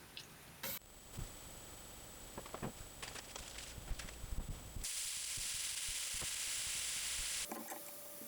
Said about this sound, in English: throwing in a little ghee and then our mushrooms on top of that, a little garlic, onion, a little salami